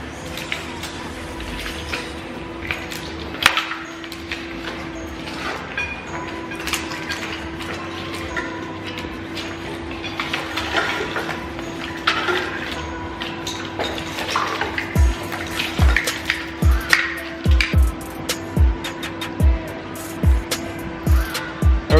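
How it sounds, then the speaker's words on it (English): Wiring harness being worked free from a car engine bay during a restoration: scattered clicks, clatter and tugging noises over a steady background hum, growing into a run of sharp repeated knocks and thumps near the end, with no talking. "So I'm gonna try and finish getting this wiring harness off"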